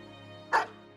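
A single short dog bark from the video game Battle Brothers, sharp and fairly close, over a quiet steady musical background.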